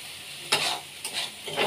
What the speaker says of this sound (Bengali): আগে প্রথম আমি ফুলকপিগুলো দিয়ে দিচ্ছি।